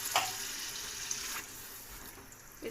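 A glass of water poured into a pot of fried spices for daal mash, a short splashing gush up close with a faint sizzle beneath, then trailing off.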